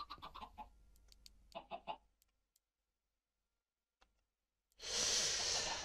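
Chickens cluck in a Minecraft game, a few short clucks and soft bird sounds at the start, then quiet, followed by a sudden loud burst of noise near the end.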